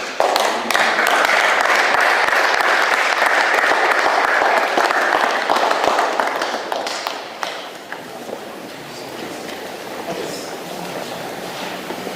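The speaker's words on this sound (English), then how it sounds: "Please, can we give a hand of applause?" A room of attendees at a U.S. congressional briefing on Biafra breaks into loud, sustained applause that gradually thins and fades over about twelve seconds, ending in scattered claps.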